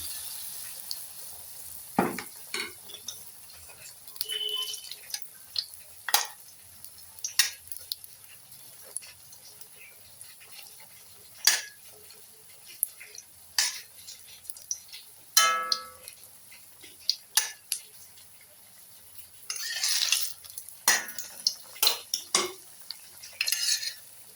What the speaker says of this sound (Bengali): এইভাবে আমি সমস্ত মালপোয়াগুলো ভেজে নেব, অল্প আঁচে এগুলো ভেজে নেব।